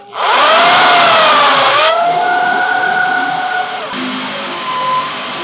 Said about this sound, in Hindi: अब इस समय सुराख करने के लिए जा रहे हैं।